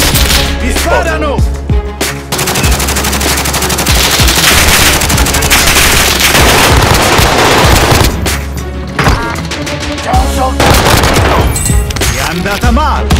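Intense Warzone gameplay gunfire, an Armaguerra 43 submachine gun in the Hotel, rattling in loud sustained automatic bursts with dense overlapping shots and booms, close and continuous, with brief gaps.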